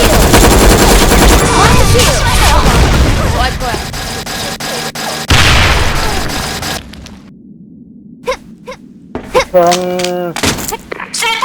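Loud Sudden Attack gunfight with dense automatic gunfire and a heavy grenade blast, the din cutting off abruptly to near silence followed by a few sharp sound effects and a voice.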